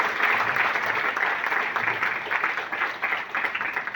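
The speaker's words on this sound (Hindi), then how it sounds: "प्लीज एक जोरदार ताली होना चाहिए" An audience at a training program gives sustained, fairly loud applause that runs steadily without a break, a dense wash of many hands clapping at once.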